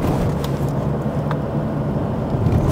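A car drives along Lincoln Drive in Philadelphia, heard from inside the cabin as a steady low engine and road rumble that holds at one level throughout.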